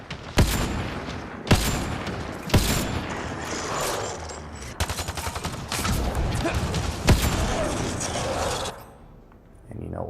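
A shotgun firing in the Mass Effect Andromeda game: about five heavy, booming blasts spaced one to two seconds apart, with mechanical clatter and combat noise between them, fading out at the end.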